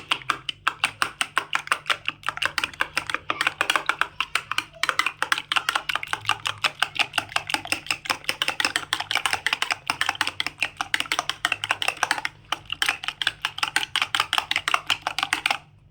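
Eggs for a shop-style chicken-egg omelette being whisked in a bowl, a fast steady clatter of rapid tapping strokes against the bowl's side that runs continuously and fairly close, with brief pauses, and no talking.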